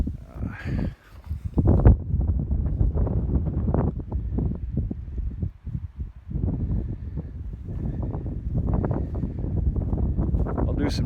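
Wind blows across an open field of twenty to thirty acres in Michigan's Upper Peninsula, rumbling and buffeting the microphone in steady, loud gusts throughout.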